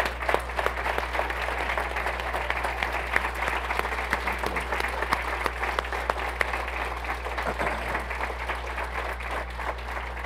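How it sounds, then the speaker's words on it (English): Sustained audience applause at a Chicago leadership fireside chat, a full room clapping steadily for about ten seconds in a dense, even wash, with a low electrical hum underneath and no speech. "I don't know that I got a standing ovation for my fireside chat"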